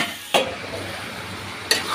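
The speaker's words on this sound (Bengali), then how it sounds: "এই যে আমি এটা ভালো করে কষিয়ে নিচ্ছি।" Beef tripe stir-fried with spices in a pan sizzles steadily at close range, broken by two sharp spoon scrapes against the pan, with no talking.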